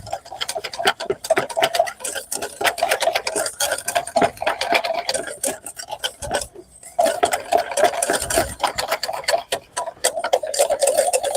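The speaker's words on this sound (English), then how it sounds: "So I'm just going to whisk it a bit so that everything comes together." A homemade vinaigrette for a fresh tomato salad whisked briskly in a bowl: rapid, steady clicking and clattering of whisk against the bowl, close, with one brief pause midway, and no talk.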